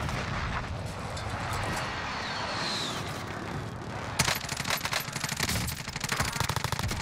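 Groza assault rifle firing in Warzone, a continuous burst of loud gunfire with overlapping shots and battle noise, followed by a sharp crack and more rapid, rattling shots.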